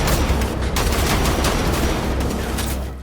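Continuous heavy gunfire with shotguns in the Wolfenstein: The Old Blood video game, dense overlapping blasts forming a loud, unbroken roar for about three seconds.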